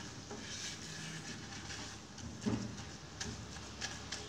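A creamy garlic sauce sautéing in a pan over low heat gives a soft, steady sizzle, broken by a few faint stirring scrapes and utensil taps.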